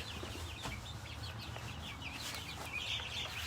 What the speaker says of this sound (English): And these turkeys right here